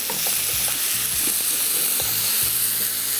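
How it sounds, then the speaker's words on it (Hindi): Minced beef frying in a pan, a steady dense sizzle throughout with soft periodic stirring scrapes, close and fairly loud, no voices. "कीमे को थोड़ा सा फ्राई कर लिया"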